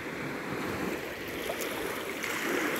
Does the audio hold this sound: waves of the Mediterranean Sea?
yes